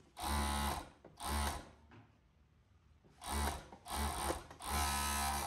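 Sewing machine stitching a shirt hem in two runs of rapid, steady mechanical clatter, separated by a short pause as the fabric is repositioned, close and loud.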